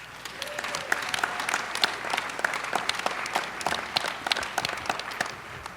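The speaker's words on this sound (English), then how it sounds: "Let's give applause," Audience applause fills a convention hall at an evening opening session of the American Council of the Blind convention, steady dense clapping throughout at moderate loudness with no talk over it.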